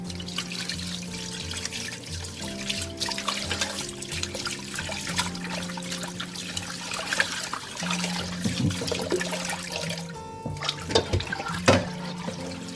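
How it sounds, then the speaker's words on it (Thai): Running water rinses raw tilapia fish after it has been rubbed to remove its muddy smell, a steady trickling and splashing that continues alone with some louder sloshes toward the end. "หลังจากที่เราทาทั่วแล้วนะเราก็มาล้างเลยค่ะ"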